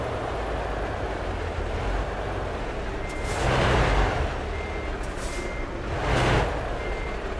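Truck reversing beeps in Euro Truck Simulator 2, a steady repeating electronic tone over a constant low engine drone, with two louder swells of broadband hiss like air brakes partway through; no talking.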